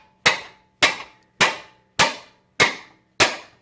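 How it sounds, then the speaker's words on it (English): A hammer beats on a 15/16 socket fitted to a lower control arm bolt on a 1995 Mustang GT, six sharp metallic strikes in a steady, evenly spaced rhythm, loud and close with no talking. "I take a hammer"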